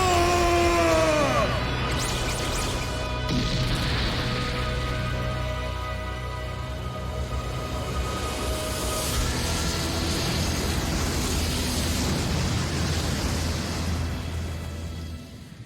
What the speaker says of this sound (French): Après cette explosion, il semblerait que le concurrent Toriko soit sorti